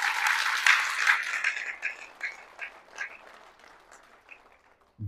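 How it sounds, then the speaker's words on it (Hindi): An audience at a network marketing seminar claps with both hands, starting as a loud burst of applause up close, then thinning to scattered claps and fading away. "तो एक बार जोरदार ताली बजाओ दोनों हाथों से।"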